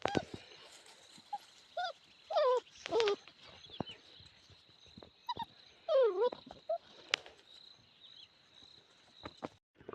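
A puppy's faint, high-pitched whimpers and short yelps come in scattered bursts over a steady thin hum of insects, outdoors on a farm near a river.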